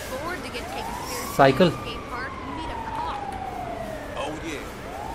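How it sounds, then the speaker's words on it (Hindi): An ambulance siren wails in the GTA 5 video game, its tone sweeping up and down across the scene while someone talks over it. "एम्बुलेंस आई उसको उठाने के"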